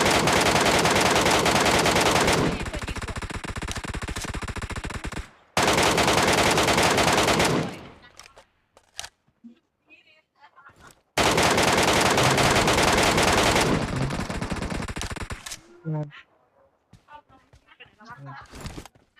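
Sustained rapid automatic gunfire in the PUBG Metro Royale video game, loud long bursts separated by short pauses, with scattered lighter thuds and game sounds between them.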